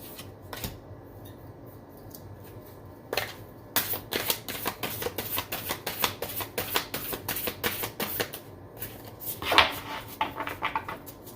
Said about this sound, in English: Let's look also into your oracle cards, 3 cards for Virgo.